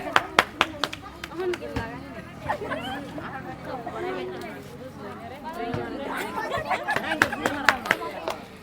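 Scattered clapping from a small village crowd cheering players in a football-throwing game, with bursts of claps over steady chatter and babble.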